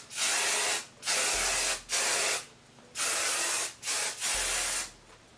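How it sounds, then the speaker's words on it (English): Hairspray mists onto the curls of a blonde ombre lace front wig in five separate bursts, each a close, loud hiss lasting under a second, with short quiet gaps between. "I'm going to add a little bit of hairspray to mine."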